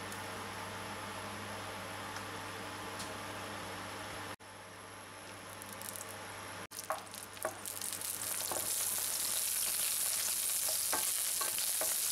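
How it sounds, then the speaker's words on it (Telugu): Green chillies slit lengthwise frying in oil for peanut chutney: a quiet start, then a loud, steady hissing sizzle that swells and holds to the end. "ఇప్పుడు పచ్చిమిర్చి నిలువుగా చిరుకుని ఆయిల్లో కొంచెం సేపు వేయించండి"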